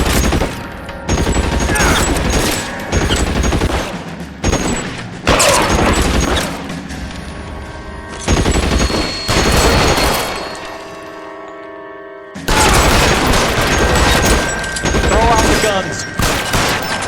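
Gunfire in the L.A. Noire video game: loud sustained volleys of shots in several long bursts, separated by short pauses, with metallic clatter and impacts mixed in.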